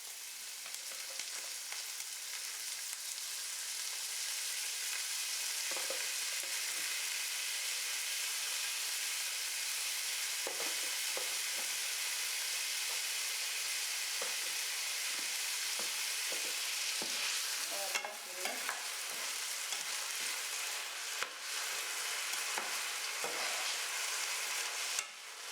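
Washed rice tipped into a hot pot and stirred, a steady bright sizzling hiss with irregular scraping knocks from the spoon, close and continuous with no talk.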